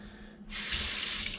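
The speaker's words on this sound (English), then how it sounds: "And a little bit of water." Water gushes steadily from a tap onto a cast iron skillet being cleaned with salt and a paper towel. A faint hum comes first, then a loud, constant hissing stream close by.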